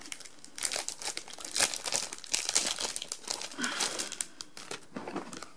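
Crinkly plastic wrapping of a small pack of post-it notes being handled and torn open, a busy run of close crackling and rustling bursts, with no talk.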